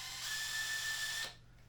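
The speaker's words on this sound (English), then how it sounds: "drill some holes in the hood" A power drill whines at a steady high pitch for about a second while drilling a hole in a Jeep XJ hood in a shop, then cuts off abruptly, leaving a faint room hum.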